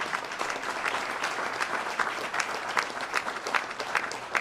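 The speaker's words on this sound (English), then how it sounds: "You ought to clap on this." An audience claps steadily during a speech by the mayor of Chicago at an executive order signing. The applause is loud, dense and continuous, with no talk over it.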